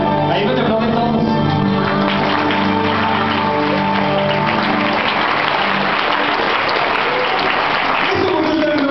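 A large theater audience at a stage show, a musical performance at ITESM Campus San Luis, applauds loudly and steadily throughout, a dense wash of clapping over sustained music.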